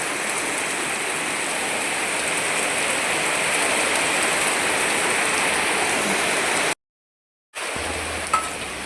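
Rain falls steadily on a surface in an even, loud hiss that cuts out briefly near the end, then resumes with a single small knock.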